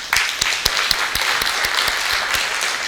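A church congregation applauds steadily during a Sunday service, many hands clapping in a dense, even patter with no voices on top.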